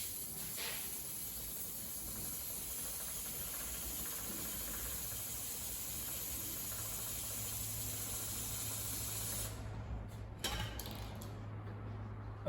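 Chain spray aerosol on a BMW G310R motorcycle's rear sprocket, a long continuous close hiss that stops near the end, followed by a few small clicks.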